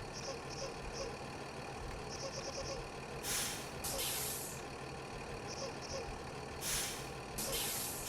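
Truck air brakes in the Rigs of Rods driving game, a couple of sharp hissing bursts of released air over a low, steady idling engine rumble.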